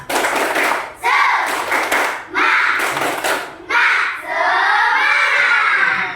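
Children in a coding and artificial intelligence training class do a rhythmic spirit clap, four sharp bursts of clapping in a steady pattern, then a stretch of loud, excited shouting voices close by.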